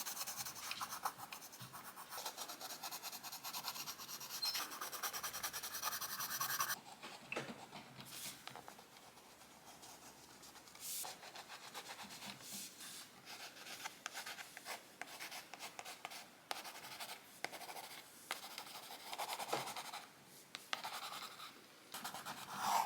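Steady scratchy scribbling of Arrtx colored pencils over gouache on paper, close and continuous, with short strokes and brief pauses, no talking.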